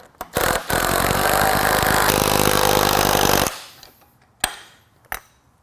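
A 3/4-inch power driver runs steadily for about three seconds, loud and close, while securing bolts on a stand-alone assembly, then cuts off, followed by two short sharp knocks.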